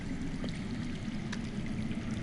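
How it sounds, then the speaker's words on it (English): Underground water in a Game of Thrones video game, a soft, steady watery trickle and pour heard faintly and continuously, with a couple of brief splashy accents partway through. "That's water. I hear water. From underground."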